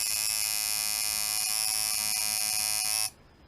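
A tattoo machine with two rubber bands holding the needle bar buzzes in a loud, steady, even drone close by, then cuts off abruptly near the end.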